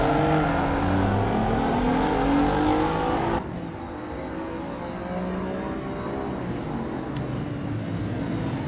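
Lamborghini race cars at Spa in the racing game Assetto Corsa EVO, engines roaring and droning at high revs with shifting pitch, loud and close, then dropping to a quieter, steadier engine drone partway through.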